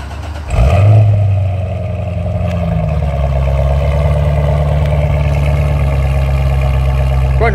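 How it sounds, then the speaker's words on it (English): A Corvette ZR1 engine cranks and fires up with a loud burst, then settles into a deep, steady rumbling idle that holds strong and close for several seconds. "Go ahead and rev it a couple times."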